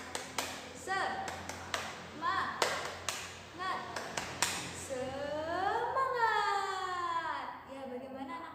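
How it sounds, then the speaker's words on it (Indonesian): A fifth-grade class performs the 'tepuk semangat' clapping chant, with crisp rhythmic claps in short patterned groups mixed with children's chanting voices, then a drawn-out sung call near the end. "kita tepuk semangat terlebih dahulu ya"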